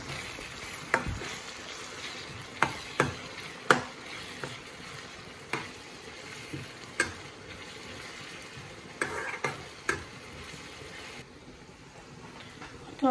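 Onion frying in oil in a pan, stirred by hand: a steady soft sizzle runs throughout, broken by a dozen or so sharp scraping and clacking strokes of the spoon against the pan, heard close and alone.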